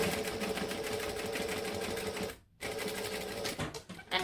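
A domestic sewing machine runs steadily, stitching through the thick layers of a bag, pauses briefly, then resumes with a short back stitch burst and a few stop-start pulses.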